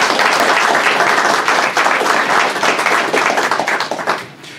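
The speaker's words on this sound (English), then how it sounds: "So let's give the Tribal Council a big round of applause." Audience gives the Tribal Council a big round of applause at a fall revenue sharing distribution event, dense steady clapping from a crowd that fades out at the end.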